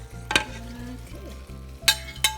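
Sweet potato noodles with chicken and vegetables being stir-fried in a pan, with soft sizzling under sharp scraping and clacking of a utensil tossing the mix at a few distinct moments.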